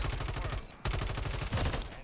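Rapid automatic gunfire from Call of Duty rattles in fast repeating bursts, loud and close, with a brief gap before the shooting resumes.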